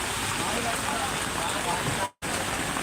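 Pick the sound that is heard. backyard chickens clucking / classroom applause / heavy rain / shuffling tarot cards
heavy rain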